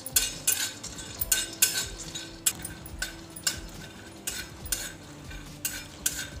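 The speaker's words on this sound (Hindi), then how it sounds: "मैं थोड़े से मूंगफली ले ली हूँ और इसे मैं फ्राई कर लूँगी" Peanuts roasting in a hot pan for samosa filling, with repeated scraping and clinking strokes of a spoon against the metal at an irregular rhythm over a soft, steady sizzle, close and clear with no talk.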